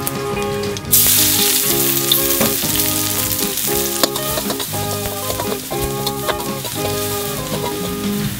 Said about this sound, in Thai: ไปผัดกันครับ ครับกระทะร้อนใส่น้ำมันไปนี้ครับ